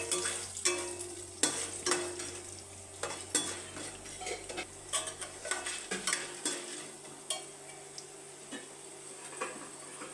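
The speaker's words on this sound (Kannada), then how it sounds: "ಇವಾಗ 100 ಗ್ರಾಂ ತೊಗರಿಬೇಳೆ ಹಾಕ್ತಾಯಿದ್ದೀನಿ. ಇದು ತೊಗರಿಬೇಳೆ ಹಸಿ ವಾಸನೆ ಎಲ್ಲ ಹೋಗಿ ಗೋಲ್ಡನ್ ಬ್ರೌನ್ ಬರ್ಬೇಕು" Toor dal roasting in a little oil in a pan, with a soft sizzle beneath repeated scraping and clinking of a spoon stirring the lentils, close and uneven in rhythm, no voices.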